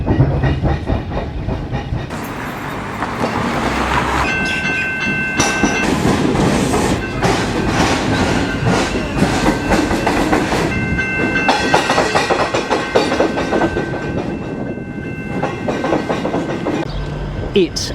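A suburban train rumbles through Glen Huntly station in Melbourne, beside a train-tram level crossing, with sustained clattering wheels, hissing and tonal squeals, loud and close throughout, with some talk in the background.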